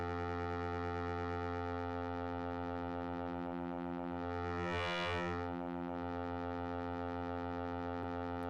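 Arturia MiniBrute synthesizer holding a steady buzzing tone rich in harmonics, with a brief swelling sweep in the middle before settling back to the sustained note.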